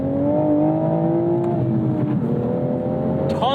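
A 2026 Toyota Supra MK5 base model with the B58 engine pulls hard at full throttle, a loud, steady in-cabin drone with rising harmonics, briefly easing around a gear change before climbing again.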